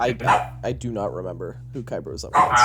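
Pet dogs barking and yipping repeatedly at close range, loud bursts breaking through a man's ongoing speech.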